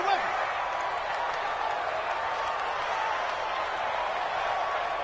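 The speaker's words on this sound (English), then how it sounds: "the crowd getting into it as we come up on a big 3rd down" Stadium crowd in the video game Madden NFL 20 roars steadily ahead of a big third down in an American football game, a dense, continuous wash of cheering at an even level throughout.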